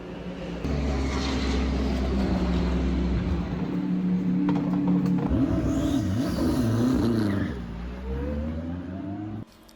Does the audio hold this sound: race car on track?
yes